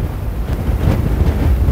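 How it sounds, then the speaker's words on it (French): Strong wind gusts buffet the microphone outdoors near the Dentelles de Montmirail, a steady loud rumbling roar that swells and pulses without any talking. "Là, tu vois, ça souffle, c'est terrible."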